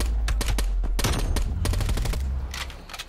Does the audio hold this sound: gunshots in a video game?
yes